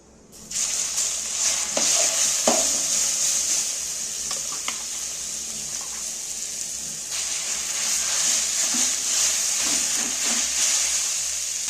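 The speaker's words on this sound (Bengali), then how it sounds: "এইবার আমি এই ফোড়নের যে তেলটার মধ্যে, ফোড়নগুলোর মধ্যে ভালো করে একটু ভেজে নেব আমটা" Grated raw mango sizzles and fries in hot oil with tempering spices and chilies for a mango pickle, a steady bright hiss broken by a few stirring scrapes and clicks.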